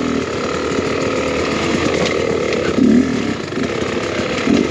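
Enduro dirt bike engine running in second gear while riding, a loud, steady buzzing drone with small surges, continuous and close, with no talk.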